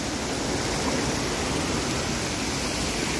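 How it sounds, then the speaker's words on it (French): A waterfall pours with a dense, steady roar of falling water, loud and close, with no other sounds breaking through. "Vous voyez, la cascade est juste là."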